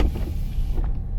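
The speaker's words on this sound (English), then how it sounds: "That's the sound of the windows." Car power windows on an RV campground trip: a short continuous electric motor whir with low rumble, fairly close, ending abruptly after about a second.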